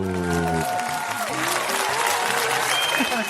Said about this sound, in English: Big a round of applause.